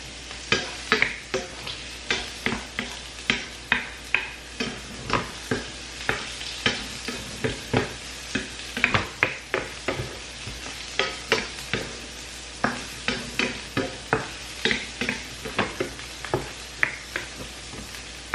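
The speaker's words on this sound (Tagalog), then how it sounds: "Avocado na muna ang niluto ko." Avocado frying in a pan is stirred with a utensil, giving a steady sizzle under a regular run of loud scraping and tapping strokes, close by and with no speech.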